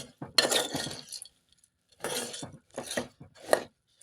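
Puffed rice, egg and oil stirred in a pan on the stove, heard as bursts of scraping and clinking from a utensil against the pan, separated by short pauses of near silence, close and fairly quiet.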